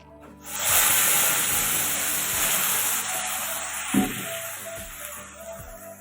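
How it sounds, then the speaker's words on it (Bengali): Masala spice paste for mushroom masala frying in a pan, a sudden loud hiss that swells then settles into a steady sizzle, with a few spatula knocks and one sharper clack partway through. "এখন আমি মশলাটা কষিয়ে নেব।"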